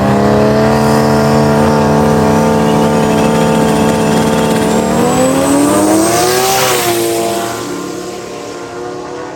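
A Toyota KE20 Corolla fitted with a 2J engine races past, its loud engine note holding steady and then sweeping upward and dropping away as the car passes and recedes.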